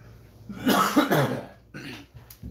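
Two or three rough, close coughs in quick succession, loud and throaty, with a short gap before a final smaller one.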